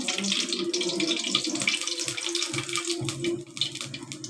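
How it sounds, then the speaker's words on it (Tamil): Cooking oil pours into a hot kadai while preparing okra rice, a close, continuous trickling and splashing liquid sound with no talk. "இப்போ எண்ணெய் ஊற்றிக்கலாம்."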